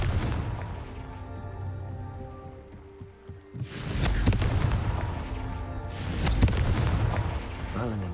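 A Confringo blasting spell is cast in Hogwarts Legacy, playing as two loud, booming explosive bursts with broad roaring tails, set against a steady game soundtrack.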